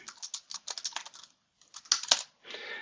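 Someone types a baseball pitcher's name on a computer keyboard in quick, close clicking bursts, pauses briefly, then adds a few sharper keystrokes and a softer final flurry.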